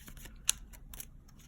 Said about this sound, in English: I'm already still shuffling